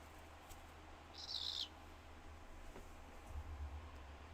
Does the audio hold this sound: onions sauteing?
no